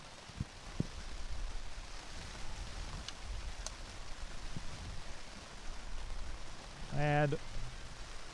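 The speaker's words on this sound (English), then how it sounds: "this is the hardest that the rain has fallen all day" Heavy rain drums steadily on a tent canopy held up at an outdoor sports match, a dense wash of patter with a few sharper taps, and a brief tonal whistle-like sound near the end.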